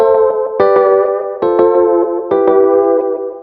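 An electric guitar runs through an Empress tape delay pedal with the feedback turned up, sounding several loud plucked notes in sequence, each ringing into repeating echoes that stack and sustain between the strikes.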